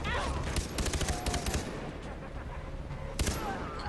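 Rapid gunfire in Far Cry 3, a dense burst of loud close shots in quick succession over continuous noisy game sound, with a final cluster of cracks near the end.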